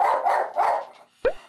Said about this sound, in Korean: 역시나 화면에 개가 나오자 평소처럼 짖기 시작하는 몽이.